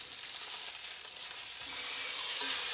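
Beef searing in a hot pan gives a steady, close hiss and crackle that keeps going without a break and grows slightly louder toward the end, with no voices over it.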